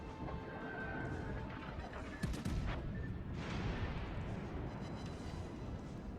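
Secondary guns of the German battleship Bayern firing in World of Warships, heavy booming blasts and crashes over a constant rumbling background, with a sharp loud report midway and faint talk underneath.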